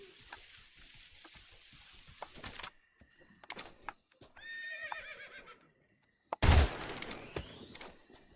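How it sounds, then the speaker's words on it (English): A horse neighs in a Metal Gear Solid video game, a loud whinny with a wavering, descending pitch standing out clearly between clicks and scattered game effects, followed by a sharp burst of noise. "You just heard a horse?"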